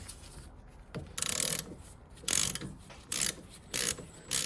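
A ratchet with a 15mm socket clicks through several short bursts while undoing a stuck brake caliper bolt on a 2013 Nissan Micra, with close, crisp pawl clicking and brief pauses between strokes.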